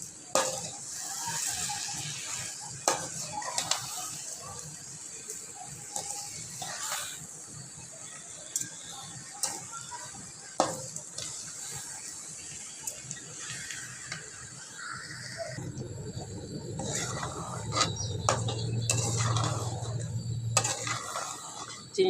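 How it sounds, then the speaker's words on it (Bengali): Sugar being stirred into cooked raw mango in a pan for a sweet-sour pickle, with scraping and clinking of a spoon against the pan, faint sizzling, and a louder, thicker stirring stretch toward the end. "এবার আমি চিনিটা দিয়ে দেব। আমের সঙ্গে মিশিয়ে নিব।"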